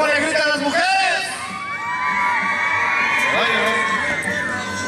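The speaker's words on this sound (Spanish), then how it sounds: "¡Cómo le gritan las mujeres!" A rodeo crowd, women among them, shouts and cheers for a bull rider, with loud overlapping whoops and yells that swell and rise in shrill bursts throughout.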